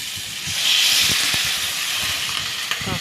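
Pointed gourd and egg fry in a pan, giving a steady, fairly loud hiss and sizzle with a few soft pops and crackles throughout.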